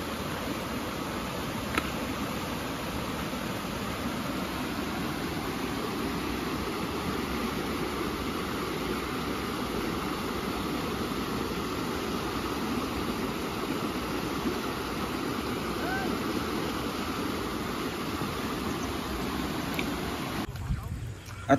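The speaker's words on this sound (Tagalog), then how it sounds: "nandito ako sa may ilog" A cold river flows at Kapatagan in Ilocos Norte, a steady, unbroken rush of water that fills the scene from start to finish.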